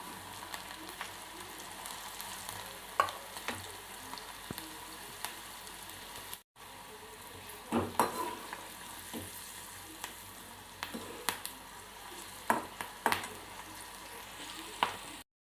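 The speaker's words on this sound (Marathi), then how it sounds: "तेल गरम झालेलं आहे तर चला मी आता याच्यामध्ये भेंड्या टाकून देते" Okra coated in masala spice frying in hot oil, a steady close crackling sizzle with occasional sharper pops and stirring clatter, briefly cut off near the middle before resuming.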